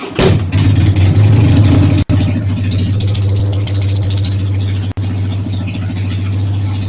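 A car engine cranks, catches and settles into a loud, steady idle close by, with a slight rattle running through it and a couple of brief dropouts, after new plugs, air filter and fresh fluids.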